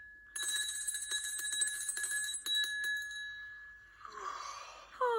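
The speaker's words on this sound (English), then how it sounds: "A bell." A bright bell rings in a children's TV programme, a sustained metallic tone with quick repeated strikes for several seconds, followed by a softer shimmering sound at the end.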